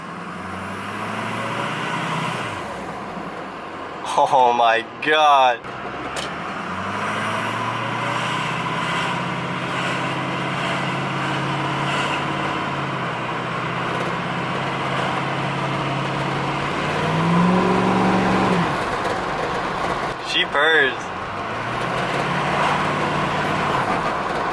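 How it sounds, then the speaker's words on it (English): A truck's loud engine revving with repeated turbo flutter on lift-off, a steady heavy drone broken by two sharp fluttering bursts, with brief exclamations from a person nearby. "The blow-off sounds, it's not called a blow-off valve, I don't know what it's called, but It flutters so hard."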